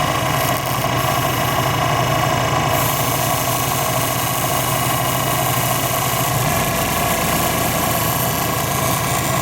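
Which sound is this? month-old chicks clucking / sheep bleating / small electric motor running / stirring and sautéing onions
small electric motor running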